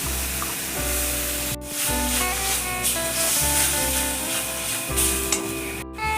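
A paste of ground poppy seeds, black and white mustard and green chillies hits a hot pan with oil, giving a steady close sizzle with faint stirring, cooked for a curd-and-poppy-seed catla fish dish.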